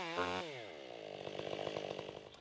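Chainsaw cutting while felling a tree, a brief throttle rev and then a sustained steady whine as the engine settles into the cut, fairly close, no talking.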